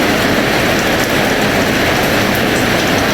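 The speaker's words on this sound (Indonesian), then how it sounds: "Nah kayak gini hujannya" Heavy rain pours down in Jakarta as a loud, dense, unbroken roar of water on surfaces, steady and close throughout.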